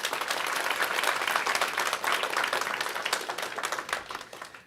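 Steady audience applause fills a board of education meeting room, dense and continuous for several seconds before tapering slightly at the end.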